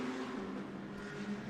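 A chasing race car circles the track during the Gulf 12 Hours endurance race, its engine a steady distant droning tone holding pitch for a moment, heard faintly on its own.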